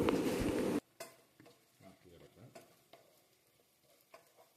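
A spoon stirs Kashmiri chilli powder and turmeric into a mushroom curry in a pan. A loud burst of sizzling comes first, then quieter scraping strokes and soft clinks follow at close range.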